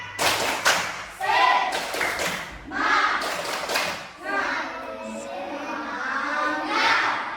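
A group of schoolchildren in a classroom performs a rhythmic 'tepuk semangat' clapping chant, with bursts of sharp claps in a patterned beat and young voices chanting along throughout.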